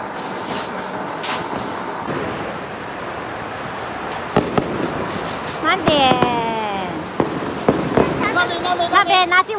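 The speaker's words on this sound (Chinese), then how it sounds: "人家那里的鞭炮啊、烟花的声音啊，早就嗡嗡嗡嗡响了啊！" Chinese New Year firecrackers and fireworks going off around a neighbourhood in Liuzhou, heard as scattered pops and cracks with a few whistling rockets, moderately distant, under a steady background roar and people talking.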